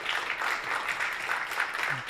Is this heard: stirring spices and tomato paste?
no